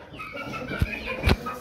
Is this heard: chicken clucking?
yes